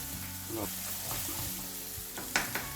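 Egg and potato masala with garlic and ginger frying in a pan, a steady close sizzle broken by a few sharp scrapes of stirring near the end.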